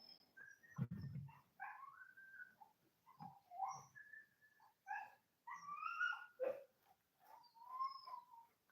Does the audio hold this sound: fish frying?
no